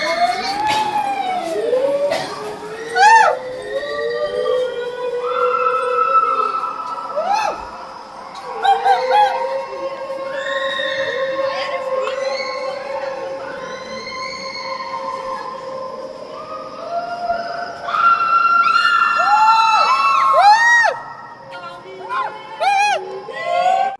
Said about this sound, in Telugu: చూసారుగా జనాలు అయితే ఎలా అయితే అరుస్తున్నారు